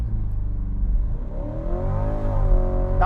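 Chevrolet Corvette C8 accelerating hard on a drag run, its engine note climbing steadily through the revs, loud and continuous from inside the car with rising whir and some clatter.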